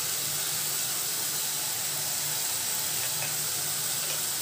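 Sautéed tomatoes sizzling in a pan with spices for coconut milk tomato biryani, a steady loud hiss with occasional soft pops, no voices.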